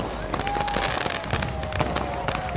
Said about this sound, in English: There's still a fireworks show to enjoy.